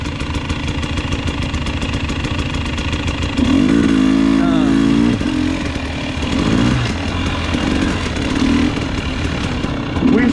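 A 2021 KTM 300 XCW TPI two-stroke dirt bike revs hard as its rear wheel spins in winter sand, a loud steady engine drone with a rising, wavering throttle burst midway, close to the rider.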